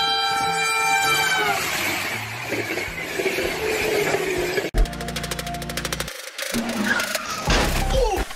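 A loud train horn blares for several seconds, followed by the rumbling, clattering rush of a train passing close by.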